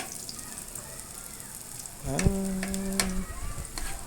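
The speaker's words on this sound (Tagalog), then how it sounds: "magigisa tayo ng sardinas. Ayan, bawang, sibuyas" Garlic and onion sautéing for sardines; after a quiet start, a sizzle bursts up about halfway through and keeps going steadily, with a brief tonal ring over it.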